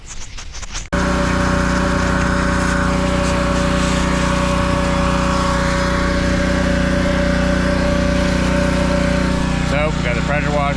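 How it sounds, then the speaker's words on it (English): A pressure washer engine runs steadily and loudly, a constant motorised drone with a low hum, while it sucks slurry out of a barrel during a muddy irrigation repair. The sound starts abruptly after a short muffled opening and holds at full level. "So we got the pressure washer, shot back hooked up to our barrel, and Fred's sucking the slurry out"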